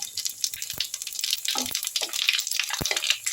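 Dried red chillies, a bay leaf and whole cumin seeds crackle and sizzle in hot oil in a home kitchen, a steady close frying hiss with scattered pops and a few soft clinks throughout.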